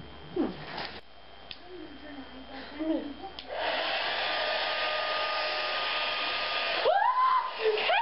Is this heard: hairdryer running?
yes